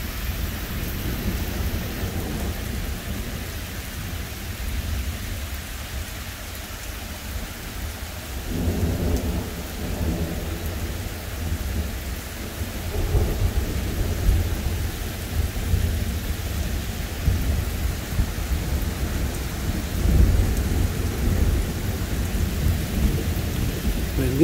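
Thunderstorm over Iowa with steady rain hissing throughout and several low, rumbling rolls of thunder, some near and swelling, others distant, with no talking.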